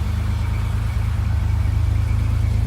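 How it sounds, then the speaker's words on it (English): A 1987 BMW M6 E24 Sharknose idling steadily, its engine and exhaust giving a smooth, even low rumble with a regular pulse, close and constant throughout, with no one talking. "Let you hear the exhaust, the idle."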